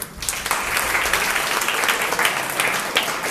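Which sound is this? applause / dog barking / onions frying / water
applause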